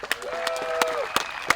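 An outdoor crowd claps for the winner of a disc golf tournament, with sparse, moderately distant hand claps, a faint whistle or cheer in the middle, and light crowd murmur throughout.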